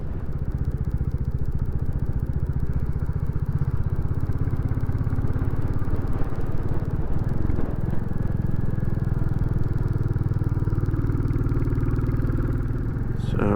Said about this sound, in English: it's that bloke on a motorbike out on the road again